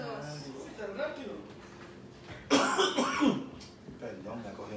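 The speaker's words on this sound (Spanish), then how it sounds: "me cogió la tos" A burst of harsh coughing breaks out after quiet talk and prayer, loud and close, a few rough hacks over a couple of seconds before speech resumes during a live broadcast.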